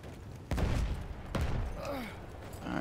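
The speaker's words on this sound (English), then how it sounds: "I don't got a sniper, but I am getting shot at." Incoming gunfire in Battlefield 1, two sharp loud shot cracks at close range amid battlefield ambience, followed by quieter distant noise.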